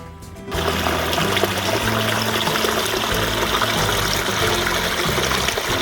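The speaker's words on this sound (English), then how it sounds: "We'll actually have a stream moving through here and into this little basin" Water flows through a homemade garden stream built with overlapping liners and spills into a small basin, a loud, steady rushing trickle that starts abruptly and continues with no voices.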